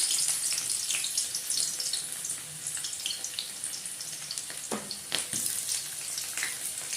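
Onion drops into hot oil in a pan for a cabbage, potato and pea curry, producing a steady watery hiss and sputter with a few sharper crackles partway through.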